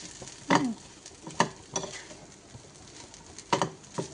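Potatoes frying in a pan with spices and curry leaves, with a faint soft sizzle broken by several sharp scrapes and clinks of stirring, spaced irregularly and heard close.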